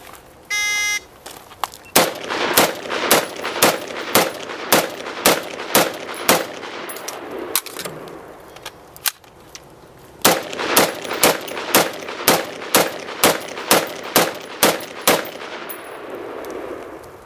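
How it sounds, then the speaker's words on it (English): Rapid pistol gunfire as a shooter works through a target array on a range using two 10-round magazines, sharp loud cracks in quick succession, a pause for the reload, then another fast string of shots. "Now she'll shoot the same target array with 2"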